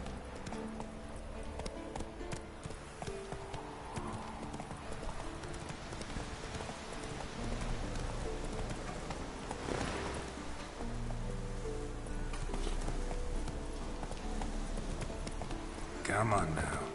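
Roach the horse gallops in The Witcher 3, with steady clip-clop hoofbeats running throughout and a rider speaking over them.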